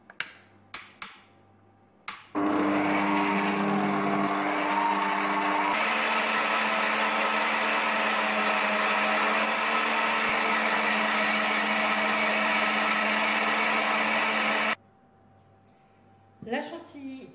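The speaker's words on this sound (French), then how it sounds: "je vais monter la crème liquide entière en chantilly" An electric mixer whips whole liquid cream into chantilly, a loud steady whir running unbroken for about twelve seconds, its pitch shifting slightly partway through, with brief clicks and handling noises before and after.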